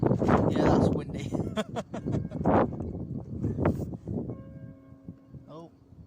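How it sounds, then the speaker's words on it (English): Church bells of a clock tower ring in the background beside a windy harbour at night, several struck tones under wind noise and close talk. "the bells of the clock tower. I don't know if you heard them in the background."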